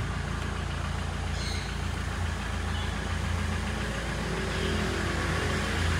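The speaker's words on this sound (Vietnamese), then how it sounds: "Máy nổ rất là ấm, rất là ngon" A Ford Transit 16-seat passenger van idles with a steady, low diesel-like rumble and a constant mechanical hum, close by and unchanging, with no talk over it.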